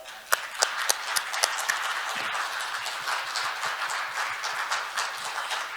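An audience at a special session of an international patent court conference in Korea bursts into loud, sustained applause. The clapping is close, with a few sharp individual claps standing out at the start.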